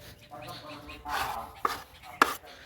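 Soil being loosened and poked around the base of a potted Manila cherry plant, giving soft scraping and a few sharp clicks of the tool, close and fairly quiet, with no talking.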